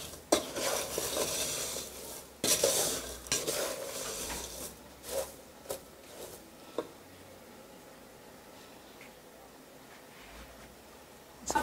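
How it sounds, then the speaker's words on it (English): Sugar-coated groundnuts are stirred in a pan after the syrup has dried to sugar granules, with gritty scraping strokes that come in bursts early on, then thin out to sparse, quieter scrapes and a faint hiss. "But you still continue stirring"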